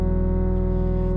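A single sustained keyboard tone, the second degree of a major scale, held steady with a rich, slightly buzzy, effect-colored timbre, loud and unaccompanied for just over a second.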